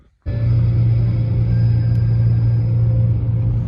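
A car starts moving down a road after a brief quiet moment, settling into a loud, steady low engine and tyre rumble with a constant hum that continues to the end.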